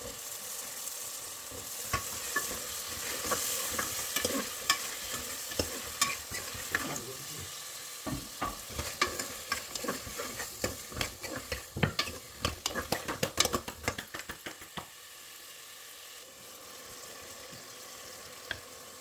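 Turnips stirred and fried in a pan on a home kitchen stove: a steady close sizzle with repeated scraping and clattering stirs that grow busier midway, then ease off near the end.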